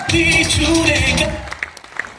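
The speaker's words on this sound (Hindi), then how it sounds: "तालियां" Loud applause from an event crowd at a Saurashtra Kranti gathering in India, a dense clapping wash with voices mixed in that tapers into scattered claps near the end.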